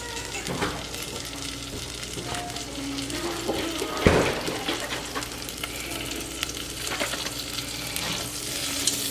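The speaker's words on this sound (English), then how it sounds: "So we got the butter melting down, frying all that goodness up." Butter melting and sizzling in a frying pan while cooking potatoes, a steady crackling fry with scattered pops and a louder clatter near the middle, no talking.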